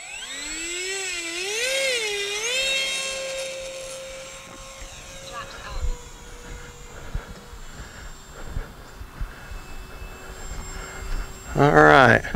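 An Avios Albatross RC flying boat's electric motor whines up in pitch and wavers as it takes off from grass with flaps set. The tone holds steady for several seconds, then fades into outdoor noise, and a loud burst comes near the end.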